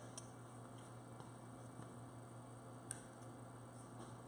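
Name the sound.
pellet dryer humming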